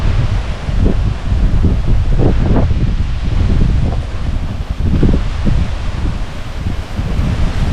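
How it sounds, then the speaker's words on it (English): Strong wind gusting across a primitive campsite in the Everglades, buffeting and rustling a screen tent, a steady roaring rush with louder surges throughout and no talking. "It is pretty windy today."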